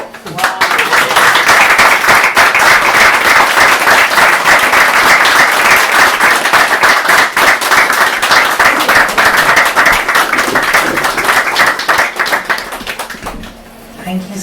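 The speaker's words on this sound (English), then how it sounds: "Can we give one more round of applause for Richard" Sustained loud applause from an audience at a reading event honoring a guest reader, dense steady clapping for most of the stretch before tapering off near the end.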